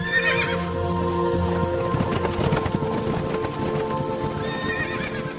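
Horses pulling war chariots, with steady clip-clop hoofbeats and neighing and whinnying over a busy, close mix that stays loud throughout.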